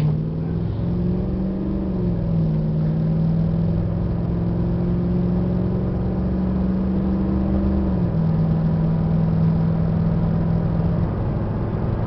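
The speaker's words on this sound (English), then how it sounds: "These Dodge Rams with a Hemi in them are just very nice to drive." A Dodge Ram 1500 SLT pickup with a Hemi engine drones steadily while driving, a constant low engine hum and road noise from inside the cab with a slight pitch drop partway through, as on a gear change.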